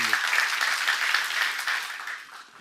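Church congregation applauding during a Korean sermon, a steady wash of hand claps that fades toward the end, with no talk over it.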